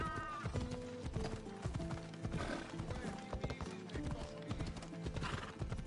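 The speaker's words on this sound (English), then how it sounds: "Alright, let's call our horse." A horse in Assassin's Creed Odyssey gallops with rapid, rhythmic hoof clip-clops and gives a clear whinny, moderately loud over in-game music, with someone talking over it.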